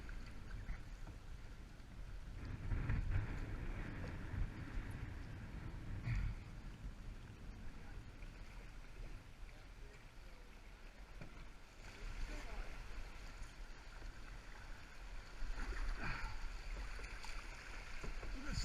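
Canoe paddled through a river race on the Grand River, with soft water sloshing and paddle strokes under faint wind and background noise, a few louder splashes punctuating the steady flow.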